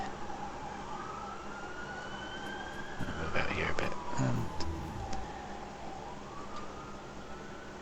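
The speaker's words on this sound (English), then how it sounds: "there are sirens going on outside" Ambulance sirens wailing on a busy street outside, faint and distant, rising and falling under indoor room noise while someone speaks briefly in the middle.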